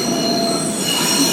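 Train wheels squeal steadily during a ride, a continuous loud metallic screech layered over rumbling rail noise with no talk.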